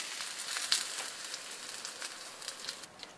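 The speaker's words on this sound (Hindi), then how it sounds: "अब मैं ये दही फुल्कियों के ऊपर तड़का लगा दूँ" Hot oil tempering sizzles softly over dahi phulkiyan (fritters in yogurt), a faint crackling hiss with small pops scattered throughout.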